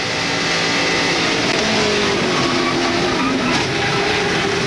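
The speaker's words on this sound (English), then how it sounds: "On board with Jimmie Johnson and Lowe's car. Listen" Loud, continuous engine roar heard on board Jimmie Johnson's Lowe's NASCAR stock car at the 2002 Daytona 500, a steady high-pitched drone with shifting tones as the car runs.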